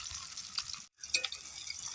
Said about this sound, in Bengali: তো মাছটা এপিট ওপিট করে ভালো করে ভেজে নিচ্ছি।